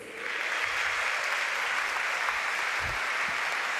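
An audience at a congress panel breaks into sustained applause, dense and even throughout, with a faint voice underneath.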